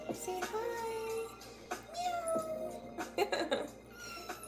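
A kitten meows repeatedly, several drawn-out rising and falling cries close to the microphone in a quiet room.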